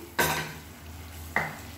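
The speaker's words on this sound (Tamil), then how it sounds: "நல்லா கலந்து விட்டுக்கலாம்." A spoon scrapes and stirs rajma masala gravy in a pan with two distinct scraping strokes over a faint background hum, close and fairly quiet.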